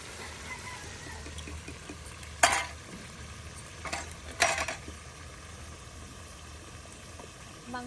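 Meat bhuna curry fries in oil and spices, a low steady sizzle with a few sharp utensil knocks against the pot.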